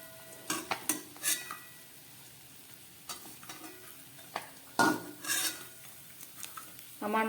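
Fried fish roe fritters are lifted out of hot oil in a pan, with scattered metallic scrapes and clinks of a utensil over a low, quiet sizzle, several sharp strikes spaced through the clip.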